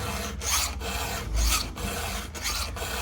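A damaged chainsaw chain being sharpened with a file, close rasping strokes in an even rhythm of about six passes, light and scratchy, with no talk.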